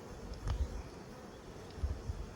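Low insect buzzing drifts in and out, a few bees passing close in short bursts around a beehive over a quiet outdoor background.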